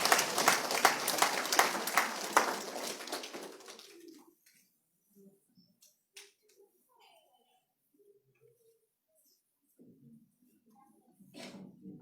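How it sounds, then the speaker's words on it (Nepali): A church congregation in Kathmandu claps together to welcome Pastor Purna: dense, lively applause for about four seconds that stops abruptly, leaving near silence with a few faint stray noises. "हामी सबैजना ताली बजाएर हामी उहाँलाई स्वागत गर्छौँ"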